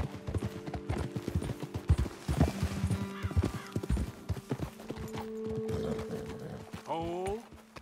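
Horses in Red Dead Redemption 2 clopping on hooves at a walk or trot, a series of close hoof beats ending in a rising neigh, with in-game characters talking over the sounds.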